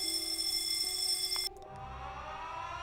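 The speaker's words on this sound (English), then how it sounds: "And then we want some kind of an alarm." An in-game alarm from Factorio rings as a steady electronic tone, then cuts off partway and is followed by a brief softer chime-like sound, with no talking.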